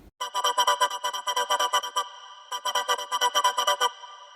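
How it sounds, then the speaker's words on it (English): Synth wobble bass built on a choir wave and passed through a bit crusher, EQ and OTT, playing loud rhythmic pulsing bursts in two phrases separated by a short gap. "Alright, the next wobble I'll do sounds like this."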